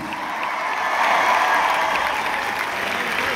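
An outdoor concert crowd at Moni Lazariston in Thessaloniki, Greece, breaks into sustained, even applause with a little cheering, the clapping swelling slightly midway and holding steady to the end.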